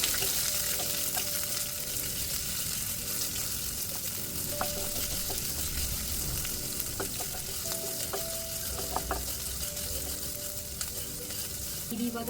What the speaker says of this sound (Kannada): ಈರುಳ್ಳಿ, ಇಷ್ಟನ್ನು ಚೆನ್ನಾಗಿ ಫ್ರೈ ಮಾಡ್ಕೊಳ್ಳೋಣ